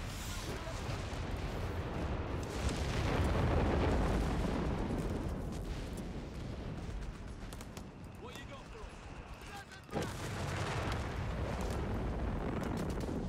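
Heavy artillery barrage in Company of Heroes 3 multiplayer, a dense rolling roar of distant shell blasts and booms that swells and persists, with a sharper impact near the end and voices talking throughout.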